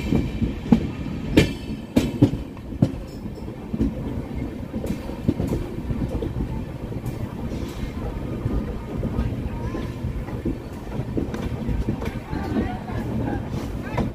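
Balurghat-Sealdah Express 03182 on its inaugural run between Jangipur and Azimganj Junction, heard from inside a sleeper-class coach: a steady low rumble with a few sharp knocks early on, under continuous rolling noise.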